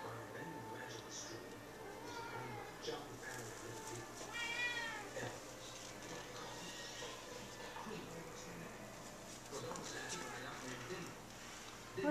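A cat meows several times while climbing a Christmas tree indoors, the calls fairly close and mixed with rustling, under a person's steady talk throughout.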